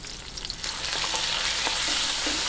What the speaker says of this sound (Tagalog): Isagisahin lang po natin. Ngayon, lagay po natin ang giniling.